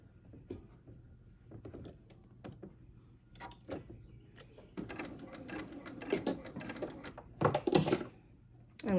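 A domestic sewing machine stitches a quilt block in quiet, irregular bursts of light mechanical clatter. The stitching swells into denser runs in the second half, with short pauses and small handling noises between runs.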